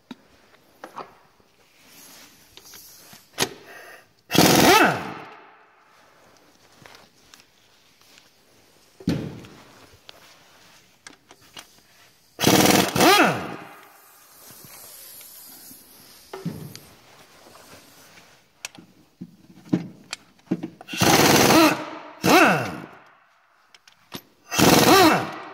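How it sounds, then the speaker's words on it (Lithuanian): Impact or air wrench bursts loosening four crankshaft pulley bolts on a Volvo S80 during a timing belt job, several loud ratcheting rattles separated by quieter clinks and shuffling in a workshop. "dabar atsisuksim 4 varžtelius, kurie prie žvaigždutės dar pritraukia alkūninę veleną"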